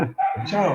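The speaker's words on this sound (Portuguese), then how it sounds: "Tem um cachorro latindo" A dog barks and yips briefly behind a close voice saying a short word, the barking quick and small within less than a second.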